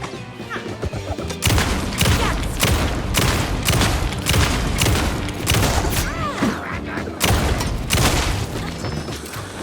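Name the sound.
gunfire in video game Alan Wake II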